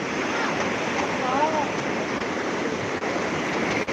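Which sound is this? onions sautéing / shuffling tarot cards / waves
waves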